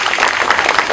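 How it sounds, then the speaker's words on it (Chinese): Applause from an audience at a Double Tenth celebration event, a brief, dense wash of many hands clapping at once, loud and even throughout. "大家俾啲掌声"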